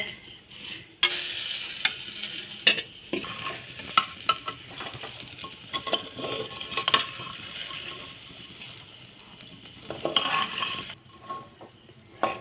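Meat frying in a pan, a continuous soft sizzle with repeated scraping and clinking of a spoon as it is stirred, close by and moderately quiet.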